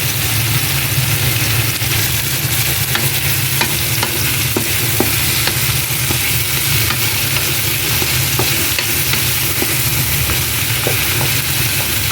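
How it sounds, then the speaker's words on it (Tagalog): Vegetables, starting with cabbage, sizzle and fry steadily in a pan for a salmon head dish, a dense continuous crackle with faint stirring scrapes and no talking. "Ginisa muna yung mga gulay bago yung isda."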